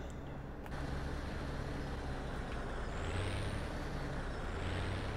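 A truck's air brake in Farming Simulator 17 hisses over a continuous low engine rumble. The release comes as a broad steady rush of air with no voices.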